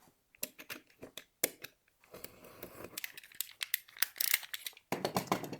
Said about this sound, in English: So I'm going to actually cut through that sticky tape now.